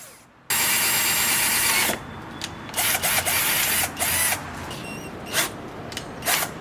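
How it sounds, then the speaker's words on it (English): A power drill whines loudly and continuously for over a second, then bursts of drilling start and stop in short, uneven pulses, drilling a hole in the center of a headlight panel on a 2004-2009 Toyota Prius. "Now I'm drilling the hole in the center of the panel for the LED strip."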